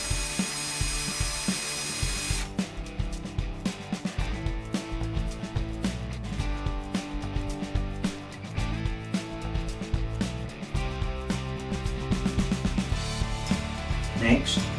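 A power drill whirs and grinds in short repeated bursts, drilling holes in a cast figure, close and loud, with rattling and clicking between the runs.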